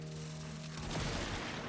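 Explosions burst from Mag's Breach Surge ability in a video game: a loud, dense rumble of blasts rises suddenly after a quieter hum and keeps roaring.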